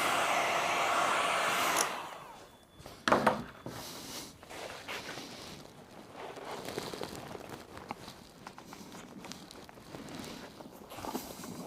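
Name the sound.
heat gun heating salon chair upholstery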